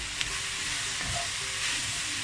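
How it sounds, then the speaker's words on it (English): Onions sizzle and crackle steadily in a hot pan, a constant hiss with faint stirring clinks, and no one speaking. "so I'll continue to fry this off for another few minutes."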